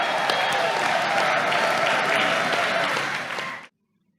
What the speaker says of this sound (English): Rise up on your feet and make a crazy noise for Jesus Christ.